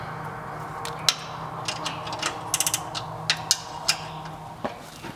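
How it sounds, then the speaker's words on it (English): A nut being threaded back onto a carriage bolt on a planter bracket, heard as a series of close, crisp ratcheting clicks coming in short irregular bursts over a faint background hum. "Put this nut back on. That's a carriage bolt."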